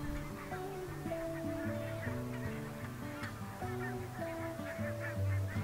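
Greylag geese swimming on a pond give repeated nasal honks in irregular bursts, several birds calling over one another at moderate distance with no talk.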